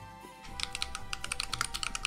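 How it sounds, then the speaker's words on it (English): Rapid typing on a loud mechanical computer keyboard, close and clear, with a steady patter of sharp keystrokes over faint background game music. "my keyboard is so loud. I'm sorry. I'm using my really loud keyboard."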